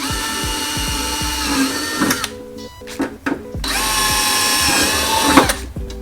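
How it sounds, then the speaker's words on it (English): Power drill boring holes through metal while fitting an Ultra Brace to a motorcycle Tour Pak, a loud sustained whine with short pauses between bursts and clicking ratchet-like spin-downs. "then we drill the other 2 remaining holes"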